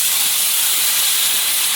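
Water poured into a hot pan of fried taro with garlic paste bursts into a loud, steady sizzling hiss with no speech over it.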